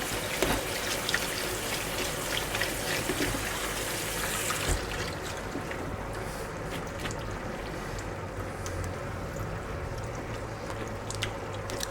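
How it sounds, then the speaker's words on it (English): Salty food is rinsed under a running kitchen tap while Swiss G'hackets mit Hörnli is being cooked, heard as a faint, steady stream of trickling water with small splashes and no talk. "Because they got fairly salty, I rinsed them a little bit in water."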